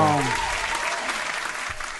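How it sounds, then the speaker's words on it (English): A studio audience claps during a radio show segment, a steady patter of hands running the full length at moderate loudness, with a voice speaking briefly at the very start. "You can give a hand clap on that."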